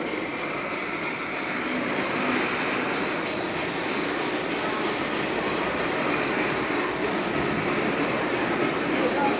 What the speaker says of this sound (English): there's a train that runs on top of that